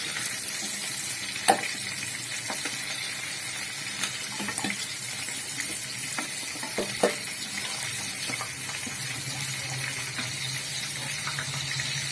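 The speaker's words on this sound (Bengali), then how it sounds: "টমেটোগুলো ভাজা হয়ে গেছে, টমেটোগুলো আমি তুলে নেব।" Tomatoes frying in a karahi for chicken karahi, giving a continuous close sizzle with a few sharp utensil knocks and scrapes, and no talk.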